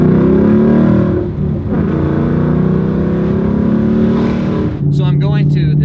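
A 2018 Ford Mustang GT with a muffler delete roars loud and close at wide-open throttle, its deep, raw exhaust drone held steady before dipping briefly near the end.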